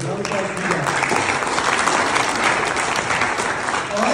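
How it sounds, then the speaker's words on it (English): Parents and kids of a youth 12U team gathering applaud loudly, a thick, continuous wash of clapping with a few voices mixed in. "Another applause for you guys."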